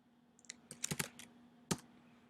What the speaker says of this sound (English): I'm going to just type in ice cream